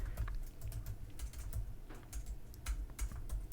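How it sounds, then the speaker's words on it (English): Fingers tap quickly on a computer keyboard, a soft and continuous run of small clicks at close range with no talking. "If I can type."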